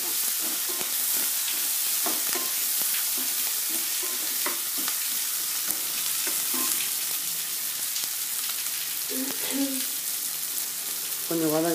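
Onions and pulav ingredients with salt sauté in a pan, a steady close sizzle broken by repeated spoon scrapes and stirring clatter throughout, with faint voices underneath.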